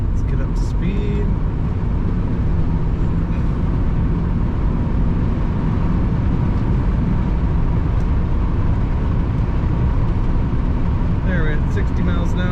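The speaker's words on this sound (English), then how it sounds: "There, we're at 60 miles an hour. Just a little wind noise around the windows." Steady broadband road and wind roar inside a 1978 Buick Riviera cruising at 60 mph, with air rushing around the windows at a constant loud level and only faint brief ticks near the start and end.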